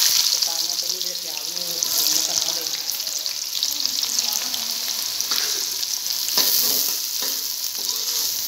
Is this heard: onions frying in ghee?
yes